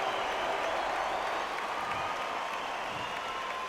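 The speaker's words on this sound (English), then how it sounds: "Give me the applause" Crowd applause from the boxing video game Undisputed: a steady, dense wash of clapping and cheering that holds at an even level throughout, with no clear individual voices.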